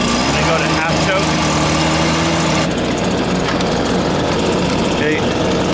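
A small pull-start engine runs loud and close on half choke, a rough, uneven idle warming up that shifts to a busier, harsher running note partway through.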